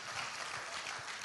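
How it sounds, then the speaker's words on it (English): Church audience applauding, a brief dense wash of clapping from many hands, fairly soft and diffuse in a large room. "that deserves clapping"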